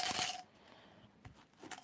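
Coins dropped together at the start as a ritual set of thirteen is counted out, a bright brief metallic jingle followed by near silence and a few faint small clinks later.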